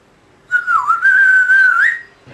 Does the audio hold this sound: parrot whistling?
yes